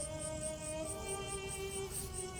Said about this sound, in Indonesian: Ada suara-suara jangkrik.